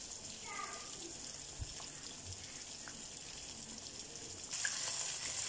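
Chicken wings deep-frying in hot oil, a steady hissing sizzle throughout with small pops, a brighter surge of frying near the end, with a voice speaking over it.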